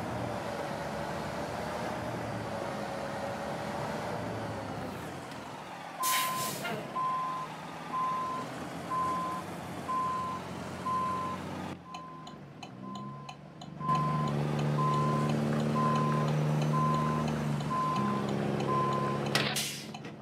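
Reversing truck in American Truck Simulator: steady, evenly spaced backup beeps repeat over a low engine drone, with a brief hiss of air brakes partway through and the engine growing louder near the end.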